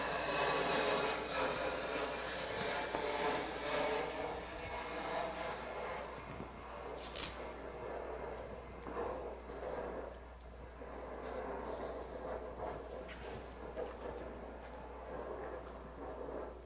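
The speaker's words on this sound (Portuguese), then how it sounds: "Agora vamos ver a diferença de no caso, avião pousando" An airplane landing, heard as a steady broadband roar of engine and rushing air that holds fairly constant throughout, with a brief brighter whoosh partway through and no speech.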